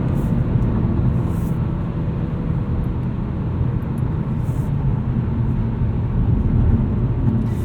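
A 2019 Mazda3 AWD sedan on a night drive, its road and engine noise a steady, loud low rumble from inside the cabin with no talking.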